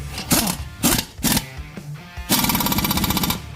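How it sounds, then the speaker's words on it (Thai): A size 30 wheel bearing nut on a Toyota Avanza is tightened with a power tool: three short rattling bursts, then a longer, steady hammering burst near and loud, with no talk. "แล้วก็น็อตเบอร์ 30 นะฮะ จากนั้นขันให้แน่นนะครับ"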